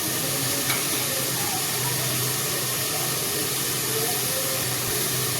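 Ginger paste and cumin paste sizzling in hot oil, a steady loud hissing crackle that holds evenly throughout with no talk over it.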